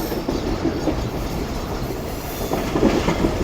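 Rehman Baba Express rolls along as it climbs toward the Indus River crossing, a steady close rumble of railcars with rhythmic clickety-clack wheel beats and occasional metallic squeals.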